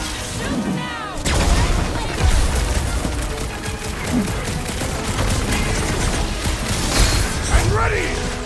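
Gunfire and booming blasts in the Guardians of the Galaxy video game, loud and dense across most of the clip, with in-game voices talking over the shooting.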